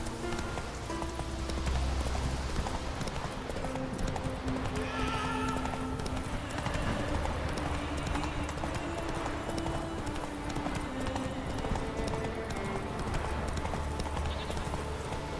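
Roach the horse trots with steady clip-clop hoofbeats in The Witcher 3, its hooves close and continuous over ambient game music, with an occasional whinny.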